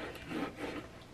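Bone folder burnishing a scored fold on a paper craft tray, a short close scraping rub in one steady pass with a quick stroke at the end.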